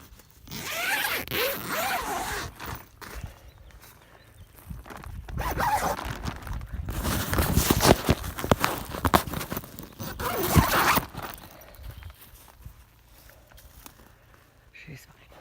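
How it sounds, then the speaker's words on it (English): A tent zipper is pulled open on a family camping trip in several rasping bursts, close up, with shuffling and movement between pulls. "Let's check the zipper."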